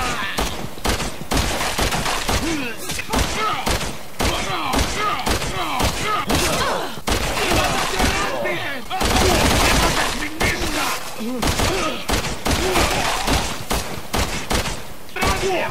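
MPAF machine pistol in Resident Evil 6 fired in rapid bursts and strings of shots, loud and close, with impacts and thuds mixed in over a dense game soundscape.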